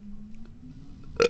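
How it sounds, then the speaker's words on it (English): A single short, abrupt burp bursts out at the very end after a stretch of quiet low hum. "I got a burp."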